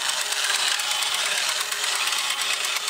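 A vintage Mighty 8 toy robot, powered by two D cells, walks with a steady, fairly loud mechanical whirring and buzzing drone that runs without pause.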